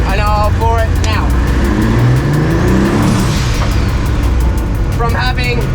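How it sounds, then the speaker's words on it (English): A turbocharged MX3 car on snowy roads is floored in third gear from about 1500 RPM, its engine note loud and rising under wind and road roar, with boost building quickly and a voice speaking at moments. "This is in third gear going 1500 RPM. And I'll floor it now."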